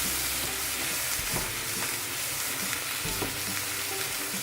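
Basic green lentils are stirred in a pot over heat, a dense steady sizzle and hiss with occasional soft knocks and scrapes of the spoon, close and continuous with no talking.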